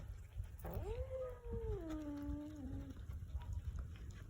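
A single cat gives one drawn-out, rising-then-falling meow, fairly faint, over a steady low background hum where pet cats are being fed.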